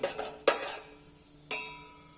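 A utensil knocks and scrapes in a dry pan as sugar is stirred and melted for tea, with two sharp metallic clinks ringing out close by amid soft stirring scrapes.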